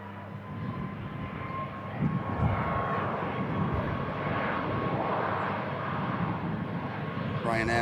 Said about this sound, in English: Pegasus touches down nicely.